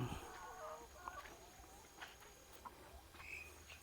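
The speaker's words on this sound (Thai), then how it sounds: "เลี้ยงไก่ด้วยนะครับ อันนี้ก็เล้าไก่ ไก่บ้าน" Domestic chickens cluck softly and intermittently from a coop in a quiet outdoor farm garden, with a few higher chirps scattered throughout.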